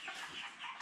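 Ross 308 broiler chickens clucking together in a brooding area, a short, dense flurry of overlapping chirps and clucks, close and steady with no talk.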